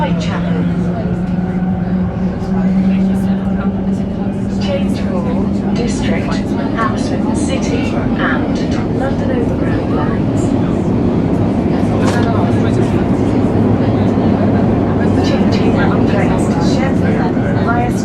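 An Elizabeth line Class 345 electric train runs between Paddington and Canary Wharf, heard from inside as a steady loud rumble and whine of the motors and wheels, with voices and announcements over it.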